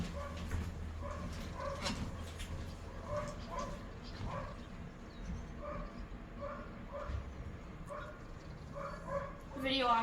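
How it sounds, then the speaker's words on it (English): Several dogs bark and yip repeatedly in an irregular, overlapping rhythm at moderate distance, with people talking over them and a steady background hum. "These dogs are very barking."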